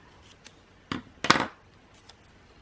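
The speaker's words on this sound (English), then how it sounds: "And let's cut off the eye." Scissors snipping through an art journal sticker, a few short crisp cuts close by, the last and loudest one slightly drawn out, with small clicks around them and no talking.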